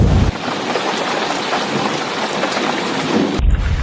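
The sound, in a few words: thunderstorm and rain sound effect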